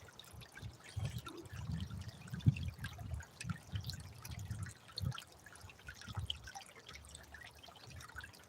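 Creek water trickles and drips close by in soft, irregular splashes and gurgles, faint and intermittent, with no talk.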